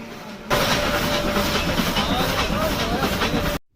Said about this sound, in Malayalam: എഞ്ചിൻ സ്റ്റാർട്ട് ചെയ്തിട്ടുണ്ട്